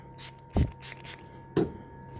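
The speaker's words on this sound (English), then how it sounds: "we're going to spray our paper towel lightly with our spray" Cleaning spray pumped onto a paper towel during printer maintenance, two short close hisses about a second apart.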